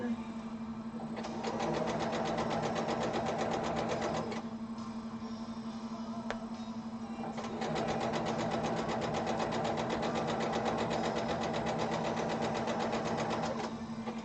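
Sewing machine stitching along the sides of fabric, running in two long rapid-fire stretches separated by a short pause, with a steady loud hum from a nearby computer underneath.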